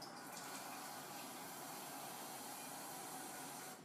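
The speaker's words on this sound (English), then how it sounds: "I'm going to add another cup of water" Water pours steadily into a cooking pot for a risotto bake, a continuous close rushing splash that ends abruptly near the close, with no talking.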